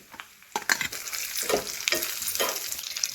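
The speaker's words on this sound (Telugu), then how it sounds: "డ్రై ఫ్రూట్స్ అయితే బాగా మంచిగా వేగాయి" Dry fruits fry and sizzle in ghee in a pan during festival cooking, with a steady crackling hiss broken by several louder scraping stirs close by.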